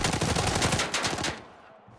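A fast automatic burst of gunfire in the video game Arena Breakout: rapid, evenly spaced loud shots for over a second, then an abrupt stop that leaves a short, fading tail.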